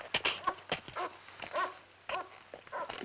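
A dog whimpers close by in a run of short, high, pleading cries and yips, rising and breaking off irregularly, with no talking.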